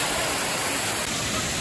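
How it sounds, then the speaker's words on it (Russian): Mountain river waterfall in Alanya, Turkey, a loud, constant roar of rushing water filling the scene without a break. "Вот это водопад, такой красивый."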